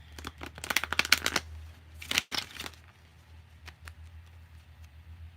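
Oracle cards being shuffled in quick riffling bursts, a dense flurry then a sharp snap, followed by a few lighter taps and flicks.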